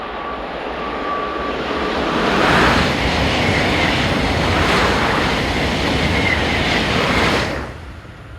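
Two coupled TGV high-speed trains on a service to Paris rush past near the track, a loud broad roar that swells, holds for several seconds and fades away, with no voices.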